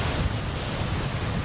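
Waterfall along Iceland's Ring Road, a dense, steady rushing roar of falling water mixed with wind buffeting the microphone, loud and constant throughout with no voices.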